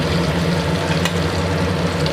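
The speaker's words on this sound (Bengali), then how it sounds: "ছোটো কোপ্তাটা হয়ে এসছে ভাজা" Paneer (chhena) koftas fry in hot oil with a steady, close, continuous sizzle and bubbling, no voices present.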